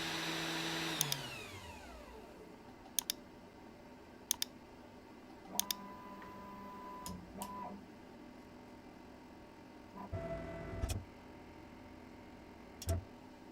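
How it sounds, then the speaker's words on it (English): The spindle of a Foxalien Vasto XXL CNC router spins up with a descending whine, then settles into a faint steady hum, broken by scattered sharp clicks and short tonal beeps, with no talk. "Test the spindle."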